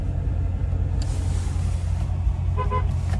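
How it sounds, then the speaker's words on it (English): A 2017 Chevrolet Corvette Stingray 2LT Z51 gives one short, fairly faint horn beep near the end, heard over the steady low rumble of its idling engine inside the cabin. "There's the horn."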